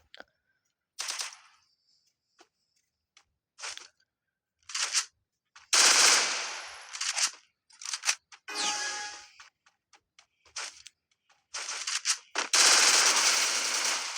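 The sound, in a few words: gunfire in a shooting video game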